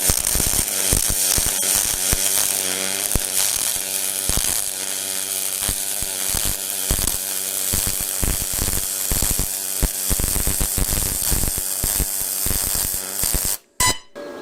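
A MIG welder lays an aluminium bead with pure argon shielding gas, giving a continuous fast crackling buzz with rapid pulsing ticks and a steady hum, close and loud, cutting off abruptly near the end.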